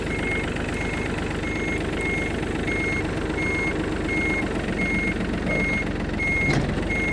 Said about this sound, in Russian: Слышим звуковой сигнал о том, что мы собираемся начать движение назад.